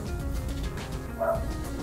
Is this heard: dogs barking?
yes